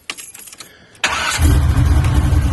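A classic Oldsmobile Cutlass with a new exhaust cranks and fires up abruptly, settling into a loud, deep, rumbling idle with a throaty exhaust tone.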